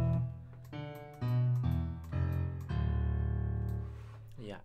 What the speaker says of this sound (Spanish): Es esto, el gran piano